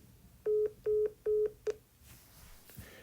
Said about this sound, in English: What you just witnessed was my very first phone call to North Korea.